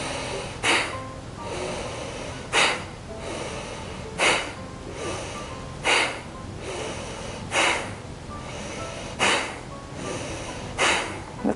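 Deep yoga breathing during a beginner abdominal session, with slow forceful breaths repeating about every two seconds, close and steady, with no talking.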